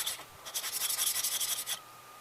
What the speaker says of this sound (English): it's time to sharpen the iron